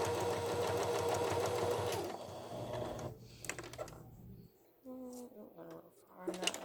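A sewing machine runs in a steady whirring burst of stitching, then stops and starts in short stitches while it pivots at a corner with the needle left down. A person talks over it.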